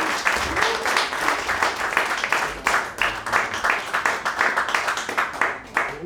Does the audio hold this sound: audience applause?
yes